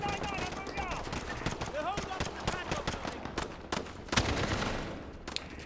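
AK-47 automatic fire in the Call of Duty Modern Warfare campaign, a dense run of shots under ongoing game noise and someone talking, with a louder burst near the end.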